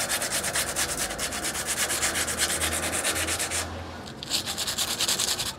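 Sandpaper rubs briskly against bicycle parts in fast, even back-and-forth strokes. The rasping breaks off briefly before resuming at the same close, steady rhythm.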